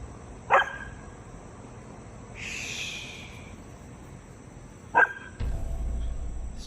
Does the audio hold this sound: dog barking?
yes